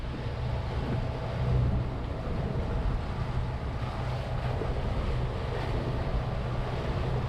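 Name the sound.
tidal water rushing fast between islands, heard from a boat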